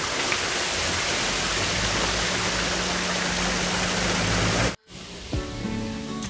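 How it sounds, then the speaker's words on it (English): Continuous splashing rush of an artificial indoor waterfall at a hotel in Bangalore, loud and close, cutting off abruptly near the end as quieter room sounds take over. "So there's another waterfall here, artificially created"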